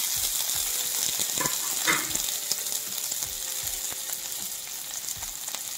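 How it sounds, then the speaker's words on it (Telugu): Baby potatoes fry in a spoonful of oil with a steady close sizzle and a few scraping clicks from stirring, no voices. "ఇప్పుడు ఒక స్పూన్ ఆయిల్ వేసుకుందాం. ఈ బంగాళదుంపలు ఇందులో వేసుకోవాలి."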